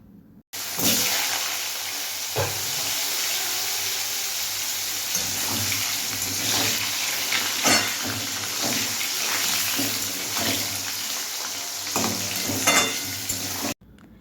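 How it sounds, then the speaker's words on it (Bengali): Long-cut potato slices fry in oil with white cumin seeds, giving a steady bubbling sizzle with occasional sharper crackles and stirring scrapes, starting abruptly and stopping cleanly. "লম্বা লম্বা করে কেটে রাখা আলুগুলো দিয়ে দেবো ভালোভাবে আলুগুলোকে ভেজে নিতে হবে"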